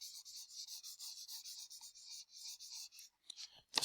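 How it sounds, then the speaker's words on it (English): Handwritten notes being taken, a pen scratching steadily across paper in short quick strokes, close and quiet, with no talk over it. "Maybe we should write this down."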